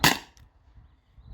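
A Beeman BP50 or HDP50 Gen 2 air pistol fires a single sharp, close pop that decays quickly into near silence, with faint low rumble after.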